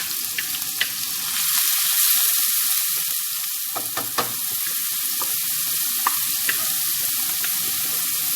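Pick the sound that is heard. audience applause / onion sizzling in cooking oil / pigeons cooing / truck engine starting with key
onion sizzling in cooking oil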